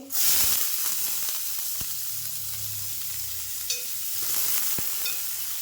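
Chopped onion dropped into hot oil in a pan while cooking a prawn and potato gravy, bursting into a loud hiss that settles into steady close sizzling with a few light stirring clicks, no voices.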